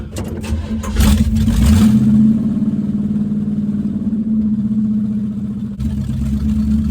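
A cold pickup truck engine catches with a brief rev, then settles into a steady, low, rumbling idle up close.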